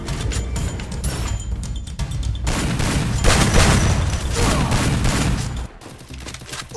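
Rapid bursts of gunfire fill a Free Fire match in dense, overlapping volleys, loud and close, ending in a brief lull near the end.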